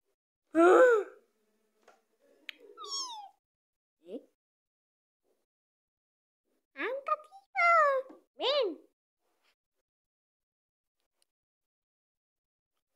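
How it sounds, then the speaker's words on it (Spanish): A kitten meows in short, high, close-up mews that come in separate bursts with quiet gaps between them, a few calls early and a cluster of them later. "Chicos, mira qué acabas de encontrar. Qué cariño, un gato."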